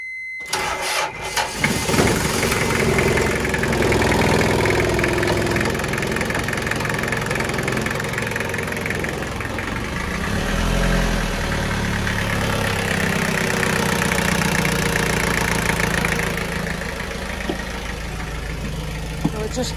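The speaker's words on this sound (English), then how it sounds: "the owner's just going to do an engine start for us" The diesel engine of a Rorqual 44 boat cranks and catches, then settles into a steady, loud, rough idle close by with a knocking rumble, and no one speaks.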